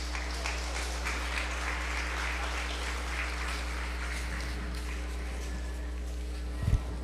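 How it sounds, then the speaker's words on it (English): Audience applause at a youth bucket calf show fills the room with steady, even clapping for about seven seconds, with a brief thump near the end. "So we'll give a big round of applause for all these young individuals and bringing out their bucket calves."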